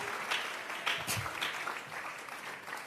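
Congregation applauding inside a church after a call to give an offering of clapping to God, a moderate wash of claps with a few louder bursts, fairly steady throughout.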